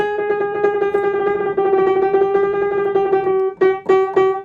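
A fast, buzzing run of microtonal piano notes at nearly the same pitch, with tiny pitch shifts, playing Flight of the Bumblebee, ends in a few separately struck notes.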